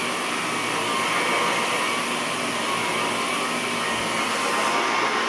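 An Electrolux Olympia One vacuum cleaner runs over carpet, a loud, steady whooshing roar that holds constant from start to finish with only slight shifts in tone.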